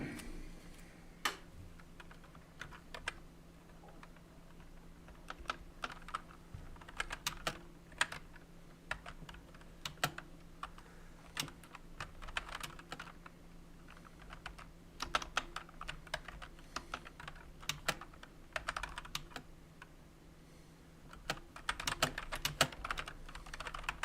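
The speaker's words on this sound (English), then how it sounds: "A lot of typing." Steady typing on a computer keyboard during live stock day trading, quick irregular bursts of clicking keys over a low constant hum, fairly close, with no voices.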